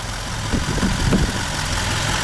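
A Duramax diesel in a 2020 Chevrolet Silverado 6500HD idles close by, a continuous dense clatter and rumble with faint rhythmic knocks throughout the short stretch.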